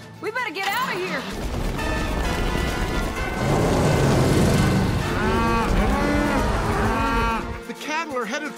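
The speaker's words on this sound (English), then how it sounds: "The cattle are headed for Tiny and the Gundersons." Cartoon cattle stampede with loud, repeated mooing over a thick rumbling rush of hooves and music, several bellows rising and falling throughout, with brief spoken voices near the start and end.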